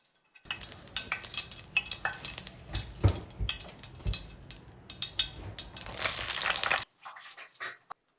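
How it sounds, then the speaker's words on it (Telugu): Green chilies fry in hot oil in a pan, a loud, steady sizzle with sharp crackles and spits running for several seconds before it drops away near the end. "ఈ పచ్చిమిరపకాయలు దోరగా వేయించుకుందాం"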